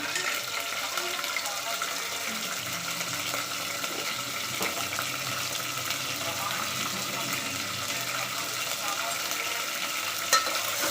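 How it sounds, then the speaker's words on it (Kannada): Chicken frying in a pan with tomato for a chicken masala gravy, a soft continuous sizzle with faint stirring and a single sharp clink near the end, fairly quiet and steady. "ಚಿಕನನ್ನು ಹಾಕ್ತೀನಿ."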